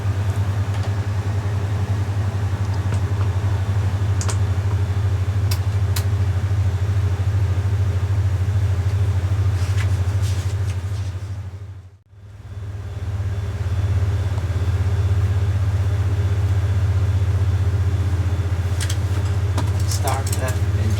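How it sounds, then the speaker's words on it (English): An aircraft's right engine spinning up on the ramp before taxi, a heavy steady low rumble and drone that drops out briefly midway, then resumes just as strong, with faint cockpit noise above it. "Start right engine."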